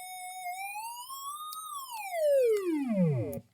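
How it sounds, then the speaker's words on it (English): A hollow, buzzy square-wave synth tone plays alone, drifting slowly upward in pitch, then gliding steeply down before cutting off. "this is a square wave"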